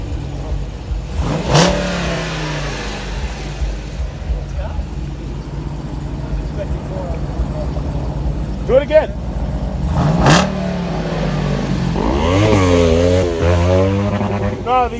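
A 2018 Dodge Durango SRT 392 with an upgraded, louder exhaust revs in several sharp bursts that rise and fall, with a rumbling idle between them and people talking nearby.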